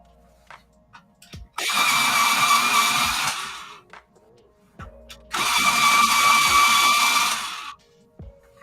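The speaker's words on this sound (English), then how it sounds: "They will fit in my what sharpener is this? AFMAT. I've got 3 electric sharpeners." An AFMAT electric pencil sharpener grinds Faber-Castell pencils in two loud, whirring bursts of about two and a half seconds each, with quiet handling clicks and soft rustling between them.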